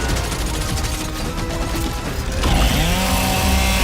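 Chainsaw Lancer rifle from the Gears of War video game, a loud dense grinding mechanical roar that holds steady and then shifts pitch partway through, with heavy game effects layered in.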